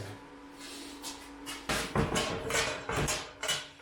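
Metal door of a homemade wood-burning stove (burzhuyka) being swung and knocked, a series of sharp metallic clanks and bangs that grow louder after a quiet start.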